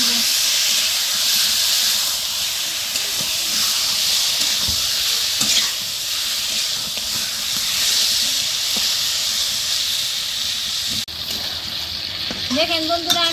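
Steady loud hiss and sizzle of water poured into spices frying in hot oil for a village-style chicken curry with potatoes, continuous throughout, with a brief stirring scrape near the end.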